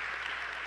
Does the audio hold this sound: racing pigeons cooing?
no